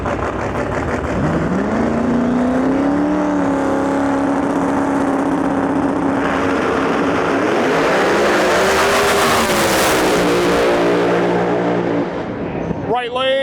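Drag race cars, one a twin-turbo V8 and the other a C7 Corvette, roar loudly during elimination racing, the engine note climbing and sweeping through gears before a sharp cutoff near the end.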